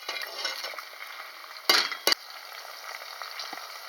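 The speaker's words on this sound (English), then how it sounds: "Give it a stir around." Curry paste with star anise, bay leaves and spices being stirred in a pan, a steady close sizzle and scrape with two sharp clatters of the utensil against the pan midway, no talking.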